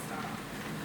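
Steady rain falls on an afternoon in Elmina, Ghana, a soft continuous hiss of drops for under a second, faint and even with no other sounds.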